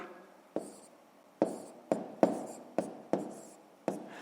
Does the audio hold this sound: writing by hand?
yes